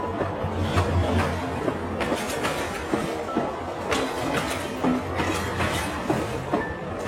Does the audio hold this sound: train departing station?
yes